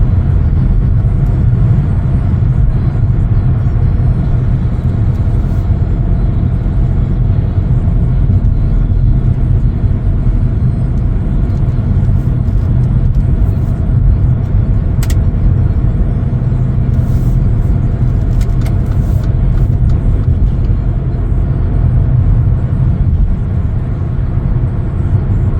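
A 2018 Mercedes-Benz CLA 250 with a panoramic moonroof drives along, giving a steady low rumble of road and engine noise. It stays constant and fairly loud throughout, and no one speaks.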